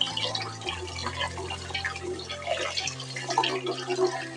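Running water pours steadily over soaked rice as it is rinsed, a continuous splashing wash with a low steady hum underneath, close by and without any talking.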